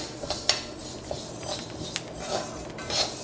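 A spoon scrapes and clinks against a thick pan as rice roasts over high heat, in a few scattered strokes, fairly quiet with no talking.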